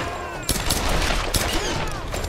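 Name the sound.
gunfire from enemies in Tomb Raider video game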